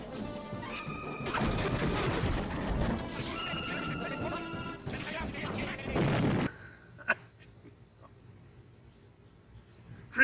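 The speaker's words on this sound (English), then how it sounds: "decides it would be a good idea to take a bunch of sticks of dynamite and light them and try to throw them down on him." Lit sticks of dynamite thrown down from a blimp explode in a dense run of crashing, booming blasts, then a quieter stretch with a few sharp isolated bangs and clicks.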